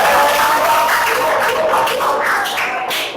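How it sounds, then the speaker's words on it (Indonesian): A class of teacher-training participants claps for one another in an Indonesian classroom lesson; moderately loud, scattered applause that gradually thins out, with voices mixed in. "tepuk tangan untuk kawan semua"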